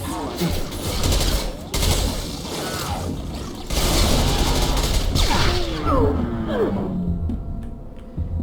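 Submachine gun fire in the Mass Effect 2 video game, rattling in sustained bursts with heavy battle noise and brief pauses, the fire fading out near the end.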